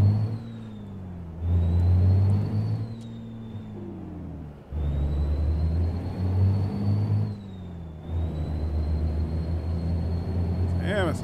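A truck engine in American Truck Simulator pulls hard in first gear, a steady low drone that swells and eases as it labours, with a faint high whine layered over the rumble throughout.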